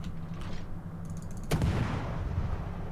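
A Montana battleship fires its gun turrets in World of Warships, a single heavy boom about halfway through that rolls into a low rumble over a steady background hum, preceded by faint mechanical clicks.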